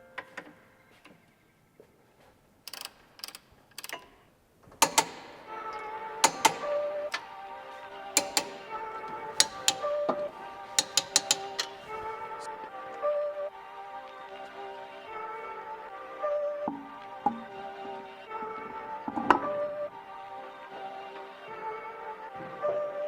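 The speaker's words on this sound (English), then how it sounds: "time to torque it all up" Torque wrench tightening the 17 mm suspension bolts on a Subaru BRZ during a Faction Fab FR-Spec install, sounding as a run of sharp metallic clicks and ratchet ticks, close up, in irregular bursts with short pauses between them.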